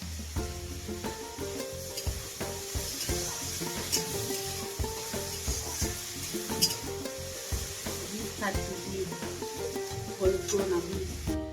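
Potato and pointed gourd pieces sizzle in a pan, a steady frying crackle broken by repeated scraping and clinking as a spatula stirs them close up.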